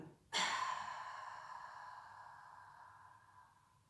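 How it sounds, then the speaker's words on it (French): A single long, audible exhale during a Qi Gong breathing exercise, starting with a sudden breathy onset and slowly fading over a few seconds, close and quiet. "J'inspire, j'inspire. J'expire."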